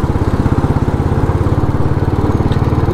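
A Royal Enfield motorcycle engine runs at a steady idle with a regular, fast thumping pulse. It is loud and close, continuous for the whole stretch, with no speech.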